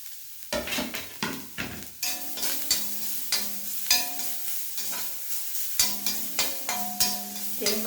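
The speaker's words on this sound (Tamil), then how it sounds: "தேங்காவை நல்லா பொன்னிறமாக வர்றது வரைய நம்ம வறுக்கணுங்க." Grated coconut fries in a pan while a spoon stirs it in quick repeated scrapes, close and fairly loud over a steady soft sizzle, with no voices.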